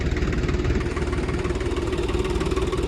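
A potato digging machine engine runs steadily nearby during a potato harvest, a loud low rumble with a throbbing, even rhythm throughout, no voices.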